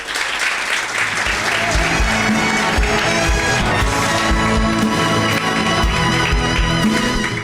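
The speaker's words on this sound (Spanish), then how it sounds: "Dele ese aplauso al Señor." Church congregation applauding during a sermon at a revival service, loud, sustained clapping from a large crowd with music playing underneath and occasional voices, continuous for the whole stretch.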